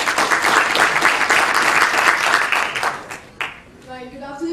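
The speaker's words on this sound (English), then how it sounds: "round of applause for Playmoolah" Audience applause for a startup presenter, dense clapping for about three seconds that quickly dies away, followed by a voice beginning to speak over the last scattered claps.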